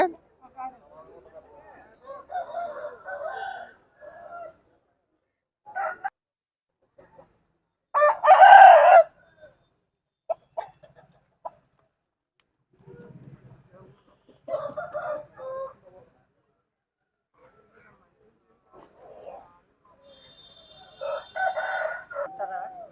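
Country chickens and roosters at a Saturday poultry market crow and cluck in scattered bursts, one loud close crow standing out, with people talking around them.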